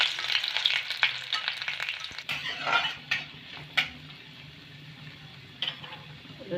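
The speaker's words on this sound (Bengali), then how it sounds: "আর দেব আমি কয়েক কোয়া রসুন, হালকা করে একটু ভেজে নেব।" A few garlic cloves fry lightly in oil with black cumin seeds, making a bubbling sizzle up close. Repeated light spoon taps and scrapes against the pan come at uneven intervals.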